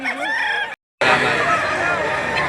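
A rooster crows loudly and close at a poultry market in Padre Garcia, Batangas, two strained calls split by a brief gap, with faint clucking and market noise behind.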